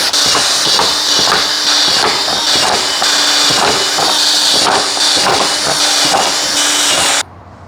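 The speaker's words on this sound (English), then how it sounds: "So we're going to drill the holes now and get it ready for fitment." Quarter-inch bolt holes are drilled into custom car side skirts, a continuous loud, close drill whine with irregular knocks and bursts, stopping abruptly near the end.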